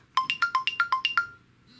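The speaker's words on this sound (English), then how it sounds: "Watch is ringing." A CMF Watch Pro 2 smartwatch rings through its find-device feature, eight quick bright electronic beeps in a steady rhythm, close and clear, then stopping.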